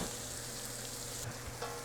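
Garlic and basil fry in a heavy pan, making a steady, dense sizzle that crackles close and continuously throughout, with no voices.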